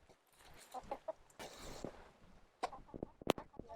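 Chickens cluck softly nearby with scattered short calls, while a few quiet sounds of movement and faint voices come and go.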